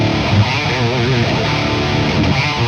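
Electric guitar played through an aggressive, savage distortion pedal with a tightened low end, a dense, sustained and loud wall of gritty, saturated chords and notes with no one speaking.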